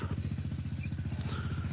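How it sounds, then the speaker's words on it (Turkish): A four-wheeled garden tractor engine runs nearby at a steady idle-like throb, an even low pulsing chug with light mechanical clatter over the short span. "bir tane traktörümüz var. Bahçe traktörü. Dört tekerli."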